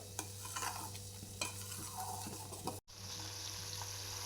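Butter simmering in a pan and turning into ghee gives a steady close bubbling sizzle with occasional light stirring scrapes, briefly cut off partway; no speech.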